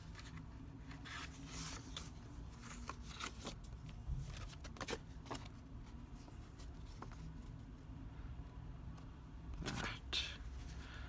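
A pencil drawing around a paper template, with soft scratchy strokes and light rubbing in short bursts, faint and close.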